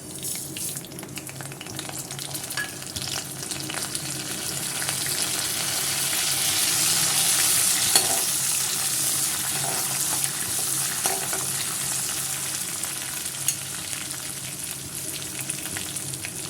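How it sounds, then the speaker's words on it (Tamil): Fenugreek, coriander seeds and cumin fry in hot oil for murungai keerai thokku, a steady close sizzle and crackle that builds slightly toward the middle with occasional stirring clinks, no talking. "எண்ணெய் நல்லா காஞ்சிடுச்சு. இப்போ நம்ம வெந்தயம், தனியா, ஜீரகத்தை சேர்த்துக்கலாம்."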